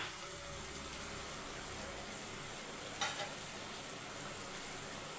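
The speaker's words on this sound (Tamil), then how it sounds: "இந்தமாரி பெரட்டி விடும் போது எண்ணெயில் லாஸ்ட்டாக நம்ம பார்க்கும்போது சூப்பராக எண்ணெய் பிரிஞ்சு வரும்" Masala frying in oil in a pan sizzles and crackles steadily while it is stirred, with a short, sharper burst of scraping or spattering midway, all fairly close and moderately quiet.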